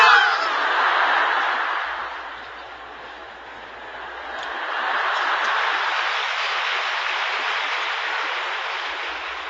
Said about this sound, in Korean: 여하튼 박수 잘 친다.